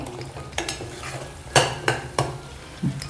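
Onion being sautéed in a pan for a Punjabi brown gravy, a low steady sizzle broken by several sharp scraping strokes of a spoon against the metal, close and clear, with no speech.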